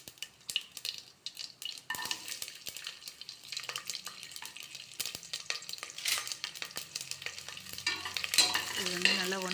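Spices and asafoetida sauté in a pan with soft sizzling, punctuated by scraping stirs and light clinks of a spoon against metal, close and fairly quiet.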